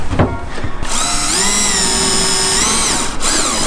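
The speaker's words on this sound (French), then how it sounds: "Rachel, tu veux pas percer?" Power drill boring holes during installation of a glass partition and roller shutters in a factory, one continuous high whining run after a few short bursts, loud and close with no talk.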